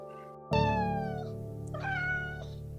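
A story sound effect of a small cat meowing, one long, clear, drawn-out meow that falls in pitch, followed by a shorter second meow, close and alone.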